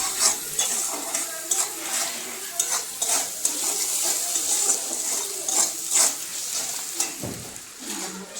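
Sugar fries in hot oil in a pan with onion and spices for an egg curry, a continuous soft sizzle broken by repeated scraping stirs of a spoon against the pan, close and fairly loud.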